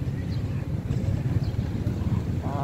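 Steady wind rumbles and buffets outdoors in a seaside park in Ormoc City at high tide, a continuous low roar with faint background activity and no clear talk.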